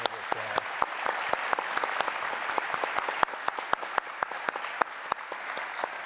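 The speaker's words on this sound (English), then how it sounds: "So can we all give her a big round of applause?" A conference audience applauds, a fairly quiet wash of clapping with sharp individual claps standing out throughout.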